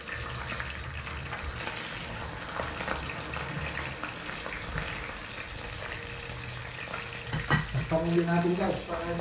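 Fish fries in a pan for a sinigang dish, a steady close crackling sizzle with occasional sharper spatters and a brief clattering stir near the end.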